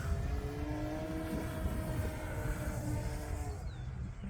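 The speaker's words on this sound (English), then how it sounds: "that was almost full throttle on the 4S" An Electrifly Edge 540T RC airplane on a 4S battery flies near full throttle, its electric motor a steady, faint buzzing whine that drifts gently in pitch as it passes at a distance.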